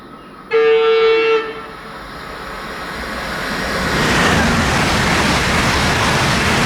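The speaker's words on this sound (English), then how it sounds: "I think it's an Intercity, but let's see." Intercity train at a German railway line: a loud two-tone horn blast near the start, then a growing rumble and rushing roar as the train passes close by on the track, no speech.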